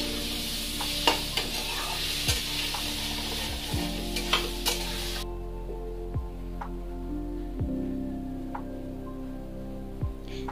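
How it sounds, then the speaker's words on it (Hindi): Grated papaya being roasted in a pan over a medium flame for barfi, a soft continuous sizzle broken by regular spatula scrapes and stirs roughly every second or two, with a steady tonal hum underneath. "हमें मीडियम फ्लेम पे ही भूनना है। हमें ढक ढक कर भूनना है ताकि ये अच्छे से पके।"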